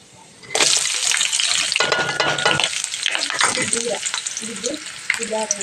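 Onions drop into hot oil with tempering seeds for an ivy gourd curry, setting off a sudden loud, close sizzle that continues steadily with stirring scrapes, and a faint voice briefly murmurs underneath.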